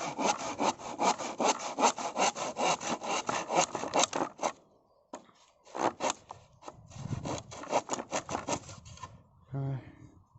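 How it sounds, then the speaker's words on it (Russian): Firewood being hand-sawn in a forest for a barbecue fire: loud, rapid rhythmic back-and-forth saw strokes, a short pause, then more strokes, with people talking over them. "Я тоже пилю."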